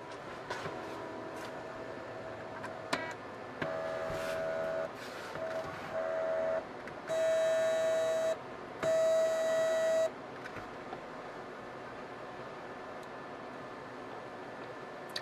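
A bipolar stepper motor driven by a Versalino MotorMaster board whines and buzzes in bursts, with steady pitched tones during the middle stretches and quieter buzzing before and after, close and fairly loud.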